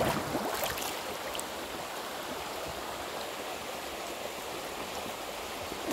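River water flows in a steady, even rushing wash during an evening swim in a natural river, continuous and fairly close with no voices.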